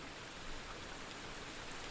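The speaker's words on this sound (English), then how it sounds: "The room falls quiet again, except for rain and the faint music in the background." Rain falls softly and evenly in a quiet room, a faint, steady hiss with no distinct drops or voices.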